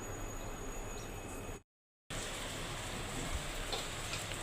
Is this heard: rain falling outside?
yes